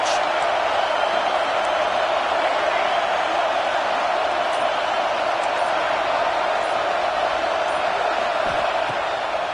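A college football video game stadium crowd roars steadily at full volume on a third-down play in the red zone, a dense, unbroken wash of cheering and noise throughout.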